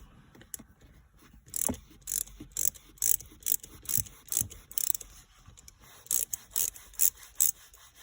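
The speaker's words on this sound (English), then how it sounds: "we can remove the bolts for the reverse lockout that we were trying to get to" A ratchet wrench clicks in rapid bursts while the reverse lockout bolts are removed from under the shifter of a 2019 Mustang Bullitt. The metallic ratcheting is close, with several short rhythmic runs separated by brief pauses.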